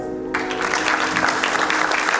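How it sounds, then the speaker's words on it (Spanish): Applause from an auditorium audience at the InnovaTech24 technology fair in El Salvador breaks out after a brief quiet moment and continues as dense, steady clapping. "Gracias, un aplauso."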